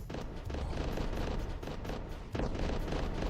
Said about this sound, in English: The planetary defense cannon is really putting a toll on our fleet.